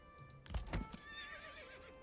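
A horse in the medieval city-building game Manor Lords gives a clear whinny lasting about a second, with a few soft hoof thuds before it, set over quiet ambient game sound.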